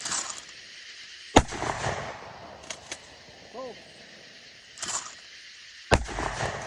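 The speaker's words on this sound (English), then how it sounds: "Here you can see us shooting from the hip like cowboys and just smacking the heck out of the skeet, laser only." Shotgun blasts at night break skeet clays, fired from the hip. Several sharp, loud bangs come at irregular intervals over a low background murmur that sounds like faint voices.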